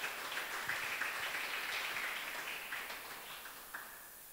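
Church congregation at a Sunday service on a university campus in Kampala applauding, a faint, distant, even patter of many hands that slowly fades.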